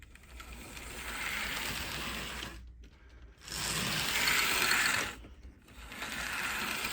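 A Hornby Dublo three-rail A4 Gresley model locomotive's motor runs slowly after remagnetizing, a faint steady mechanical whirr and gear chatter in two long runs separated by short silent breaks.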